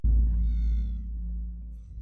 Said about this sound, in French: c'est un chat de gouttière